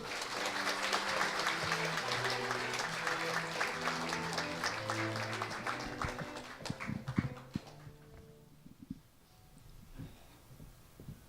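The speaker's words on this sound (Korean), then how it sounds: "여러분 큰 박수로 환영해 주십시오." A hall audience at the 13th Kyung-Ahm Prize award ceremony applauds to welcome the foundation chairman, a dense, steady wash of clapping over sustained background music that thins out and fades after several seconds.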